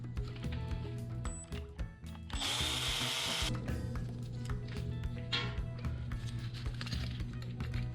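A power tool spins out the swing arm bolt on a BMW motorcycle rear end during a service, a loud whirring burst of about a second amid steady shop noise and mechanical clatter, close up with no talk.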